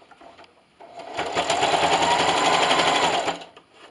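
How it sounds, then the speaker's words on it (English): A sewing machine fitted with a walking foot back stitches through thick quilted pot holder layers, a steady close mechanical whir running for about two and a half seconds after brief quiet. "So now I'm just going to back stitch in the beginning."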